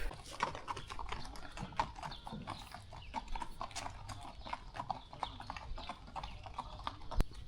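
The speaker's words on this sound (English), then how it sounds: "I can just see some Lucky Luke horse riders coming down in front of me" Horses with riders clip-clop along a road, a steady rapid patter of hooves on hard ground, moderately close and fairly quiet, with no talking.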